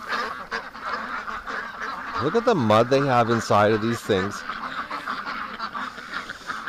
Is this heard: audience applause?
no